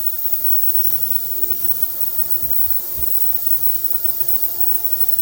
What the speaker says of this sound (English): the ultrasonic cleaner is running right now